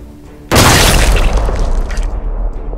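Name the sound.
big explosion sound effect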